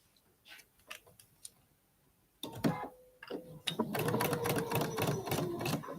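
A domestic sewing machine stitches a seam on a quilt sampler block, starting with soft ticks and handling sounds, then a close, steady rapid mechanical whirr and clatter running continuously to the end.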